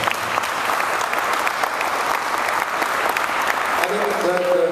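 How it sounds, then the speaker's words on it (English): Audience applause at a city event for a youth recreation and jobs program, a steady dense wash of clapping from a sizable crowd throughout, with a brief tonal sound near the end. "Give yourselves a round of applause."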